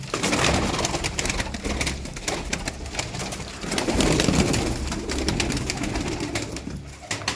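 A male sinekli sabun pigeon coos steadily and close, mixed with rapid wing clapping or rustling over a constant low background.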